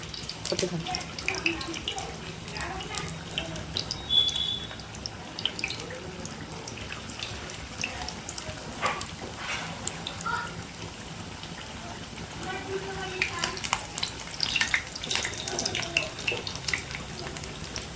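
Fish roe fritters frying in hot oil, giving a steady, close, bubbling sizzle with occasional crackles while a person talks over it.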